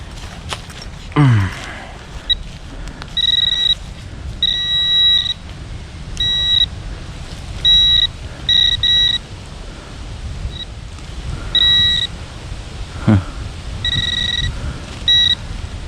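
A metal detector sounds a series of short, high electronic beeps in irregular bursts, some doubled, over rustling and scraping outdoors in a forest, with brief breathy noises.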